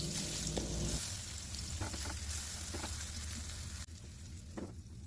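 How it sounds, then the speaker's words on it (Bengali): Eggplant pieces fry in oil in a wok with a steady, fairly quiet sizzle. A few soft clinks of stirring or turning break through, and the hiss drops slightly near the end with no voices. "এখন একটি কড়াইতে তেল দিয়ে বেগুনের টুকরাগুলো এপিট ওপিট করে ভেজে নেব।"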